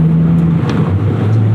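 A manual car's engine drones loudly and steadily from inside the cabin while driving, with a slight shift in pitch partway through as revs change.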